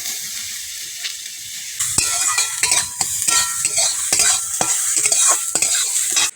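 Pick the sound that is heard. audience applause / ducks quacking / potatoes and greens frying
potatoes and greens frying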